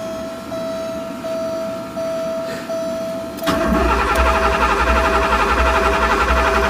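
A Porsche 928 with open headers, unstarted for over fifteen years, cranks for a few seconds and then fires into a loud, raw, rumbling idle close by.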